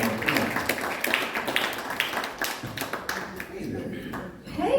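A small audience claps for performers at a songs-and-stories event, with steady, moderately loud applause that tapers off near the end, with voices mixed in.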